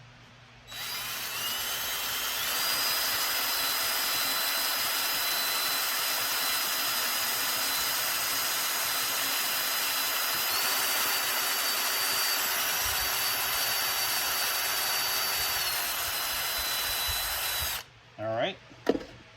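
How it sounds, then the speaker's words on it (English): A handheld power drill whines steadily for about seventeen seconds at a constant high pitch, close by, boring a 1/8-inch pilot hole in a car audio trunk side panel, then stops with a few small knocks. "Now I'm gonna drill an 1/8 inch pilot hole."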